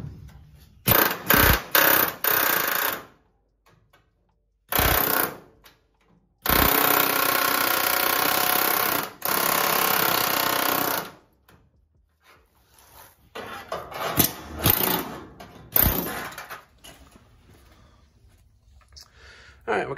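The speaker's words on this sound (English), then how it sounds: "we'll pop all the spot welds loose off that next here" A power tool drills out spot welds on a car's rusty rocker panel, loud harsh grinding bursts of a few seconds each separated by pauses, ending in shorter scattered clanks and scrapes.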